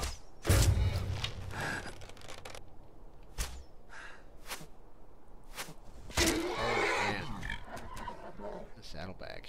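A horse in the video game Skyrim gives a few snorting whinnies and grunts among scattered game thuds and clatters, fairly faint in a quiet mix, with someone talking over parts of it.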